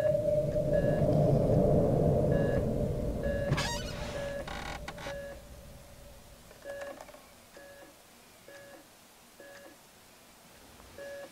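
A printer in a horror short film prints a candy bar: a brief burst of mechanical whirring and rattling, followed by a steady run of short, evenly spaced electronic beeps over a low rumble that fades.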